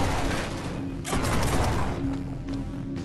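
Dense gunfire in the PS4 sci-fi shooter Genesis Alpha One: loud, continuous bursts and booming impacts packed close together, with no pauses, over a heavy rumbling backdrop.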